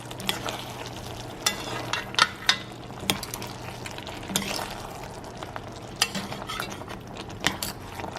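Eggplant and vegetables being stirred in a pot for ginataang gulay: irregular metallic scrapes and clinks of a utensil against the pot over a soft simmering sizzle, close and without voices.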